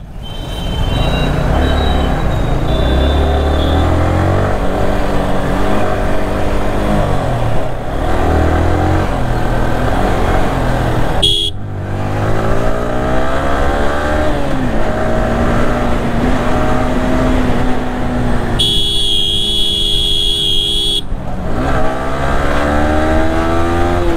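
Yamaha R15M V4 motorcycle, a 2024 model, riding through city traffic with a steady loud engine drone that shifts in pitch as it speeds up and slows, plus a brief burst of a higher tone near the end.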